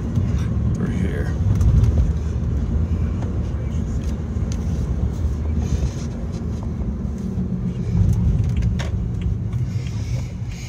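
A BMW rolls along on a test drive, its steady engine and road rumble filling the cabin as a broad, continuous low drone from inside the car, with someone talking over it.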